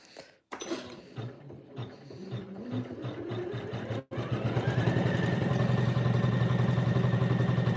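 A sewing machine stitches quilt pieces, starting with short stop-start bursts of needle chatter, then running steadily and loudly at close range after a brief pause.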